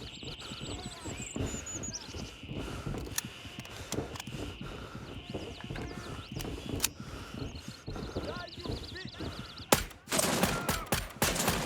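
An enemy unloading a gun in the Gray Zone Warfare shooter, rapid cracks and bursts of fire scattered through the scene, growing louder and denser near the end, over chirping birds and ambient outdoor sound.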